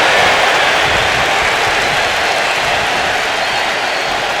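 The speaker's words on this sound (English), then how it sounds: "Listen to this crowd." An arena crowd in the WWE 2K25 wrestling game roars, cheers and applauds as one loud, dense, continuous wall of sound with no breaks, while commentary may sit faintly underneath.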